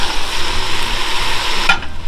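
Celery and other vegetables sautéing in a pan, giving a dense, continuous close-up sizzle with faint stirring, steady and loud throughout.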